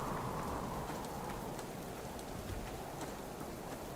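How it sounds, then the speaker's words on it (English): Steady rain falling outdoors, a dense continuous hiss with scattered drop patter throughout, fairly loud and close, with no voices. "Stupid rain"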